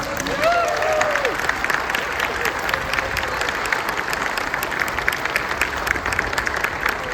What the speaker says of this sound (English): give my class a big round of applause